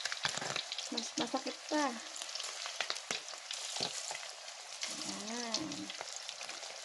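Spam frying in hot oil at breakfast in the province, with a continuous crackling sizzle and sharp pops, while a person talks briefly over it.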